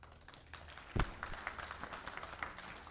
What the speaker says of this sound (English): You can clap louder, too, if you want